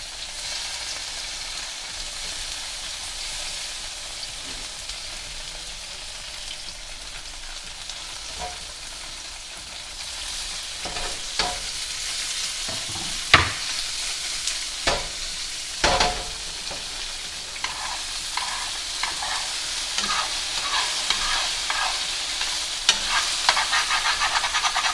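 Stir fry in a hot pan with spices, grilling over the heat: a steady close sizzle under occasional sharp scrapes and stirring clatters that grow busier toward the end.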